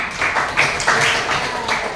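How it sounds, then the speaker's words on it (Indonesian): Students in a seventh-grade social studies classroom clap their hands, a short, fairly close burst of applause with uneven, overlapping claps. "Tepuk tangan"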